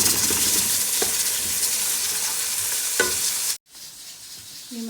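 Masala frying and being stirred in a pan at home while making kofta chana, a steady loud sizzle with occasional spoon scrapes, cut off briefly near the end before resuming more quietly.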